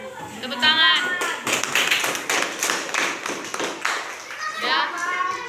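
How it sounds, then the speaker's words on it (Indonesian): Primary school children in a classroom clap their hands together in a quick rhythmic series of sharp claps, with young voices chanting along between and over the beats. "Tepuk tangan."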